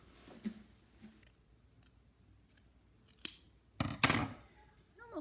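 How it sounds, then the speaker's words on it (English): Scissors cutting craft clothing material into a swimsuit shape, a few soft snips spread out before a louder cluster of close crisp cuts near the end. "Cut that into like a swimsuit shape"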